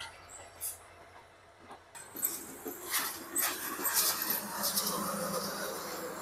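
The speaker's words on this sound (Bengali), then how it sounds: "এই যে সেই রেলটি ইতিমধ্যে ত্যাগ করে ফেলেছে কমলাপুর ডিপো।" A train with red carriages pulls out of Kamalapur railway depot; after a quieter start, rattling metallic clatter and squeals build and continue at moderate distance.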